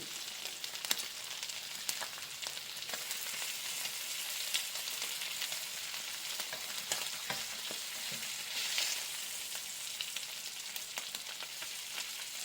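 Bacon fries in butter in a pan with a dense, even crackle and spatter that holds steady throughout, with faint pops and the odd utensil tick.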